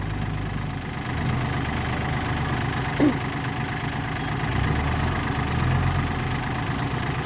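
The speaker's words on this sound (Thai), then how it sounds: "เวลาดึงมันต้องช่วยกัน ทั้งเร่งเครื่องหน่อย" A Kubota L5018 tractor runs while towing a John Deere 3036E. The engine gives a steady, low diesel rumble close by, with one brief sharp knock in the middle.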